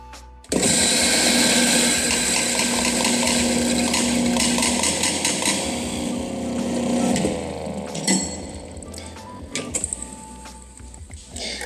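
Coffee grinder purging 5 to 7 grams of coffee to clear residue from a previous roast, a loud close motor whine with rattling grinding that runs for several seconds, then winds down into a few scattered clunks and rattles.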